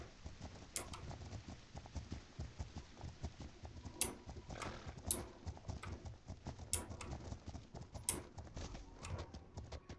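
Horse hooves clip-clop steadily in The Legend of Khiimori, a horse-riding video game, with a soft patter of footfalls and a few sharper clicks over a continuous low background.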